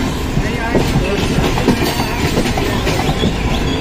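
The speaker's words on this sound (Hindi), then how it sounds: "लोकल ट्रेन जा रही है" A local train rumbles and clatters steadily past at close range at Kalyan station, a continuous heavy roll of wheels on rails with rhythmic clicks.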